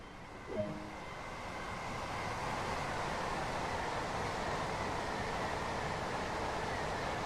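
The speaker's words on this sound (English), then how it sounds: "Oh, there's a Gatwick Express train." A Gatwick Express train passes in the Train Sim World 2 game on a London commuter route, its steady broadband rumble swelling and holding loud for several seconds with no talk.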